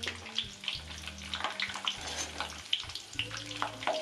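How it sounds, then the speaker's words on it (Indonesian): Peanuts frying in a pan of oil over medium heat, a steady crackling, watery sizzle running throughout with scattered pops and a low background hum, no talk. "kita goreng kacangnya, apinya jangan terlalu besar, sedang aja supaya tidak gosong di luarnya ya"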